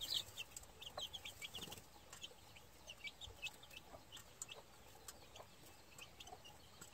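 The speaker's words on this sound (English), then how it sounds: "Here's the 5 blue chicks that this brown red hen hatched." Gamefowl hens and their young blue chicks cluck and peep softly in a pen, faint scattered calls with occasional wing flutters and quiet background.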